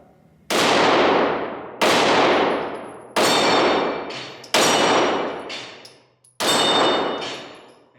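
Five loud 9mm shots from a Glock 17 Gen 5 pistol at an outdoor range, spaced roughly a second apart, each sharp crack followed by a long echoing decay and several bright metallic rings off steel flapper targets.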